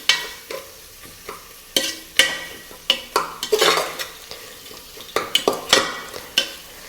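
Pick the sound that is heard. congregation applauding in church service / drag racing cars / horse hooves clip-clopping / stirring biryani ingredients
stirring biryani ingredients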